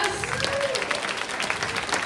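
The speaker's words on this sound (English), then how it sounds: "Another round of applause." An audience applauds after a spoken introduction: dense, continuous clapping from a crowd, fairly close and steady for a couple of seconds, with a faint voice partly under it.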